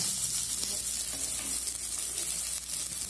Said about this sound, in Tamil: அடுத்தது கறிவேப்பிலையை போட்டுக்கோங்க போட்டு எல்லாத்தையும் எண்ணெயில் நல்லா வதக்கிக்கோங்க